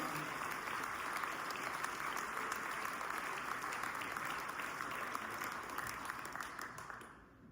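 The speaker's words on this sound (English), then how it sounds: "You have a round of applause." Loud, sustained applause from a banquet audience at a fire department firefighter of the year dinner. Dense clapping holds steady for about seven seconds, then tapers off at the end.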